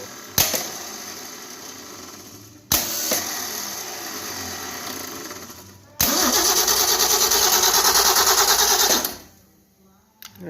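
A Ford Mustang engine with a sticky Bendix starter cranks in three loud bursts, two short ones and then a longer, steadier run of about three seconds that cuts off into quiet, with no talking over it.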